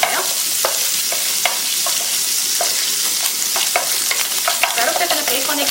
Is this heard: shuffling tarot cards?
no